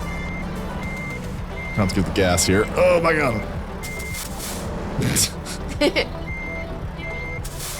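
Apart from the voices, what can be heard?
truck reversing beeps while backing up in American Truck Simulator video game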